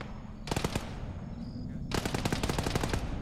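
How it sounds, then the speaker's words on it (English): Two rapid bursts of heavy automatic gunfire ring out in the Arma game, one short volley early and a longer sustained burst later, fairly loud against a low background hum with no talk. "Some kind of heavy gun?"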